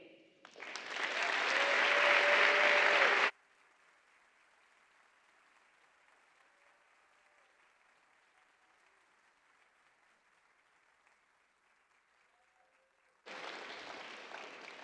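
A conference audience at a MEX Talks 2024 event breaks into loud, full applause for a speaker, Dr. Brennan. The applause ends abruptly, leaving a long hushed stretch, then swells again near the end.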